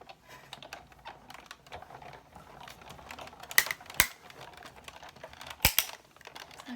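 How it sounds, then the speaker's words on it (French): A circle being cut out of card to make a spinner card, heard as close, soft, irregular snipping and scraping with a few sharper cracks and clicks near the end, without any speech. "Donc je vais découper mon cercle."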